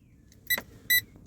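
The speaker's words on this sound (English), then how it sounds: "Parking sensors beeping away." Two electronic beeps from a van's parking sensors as it reverses, short bright tones spaced under half a second apart over a faint low hum.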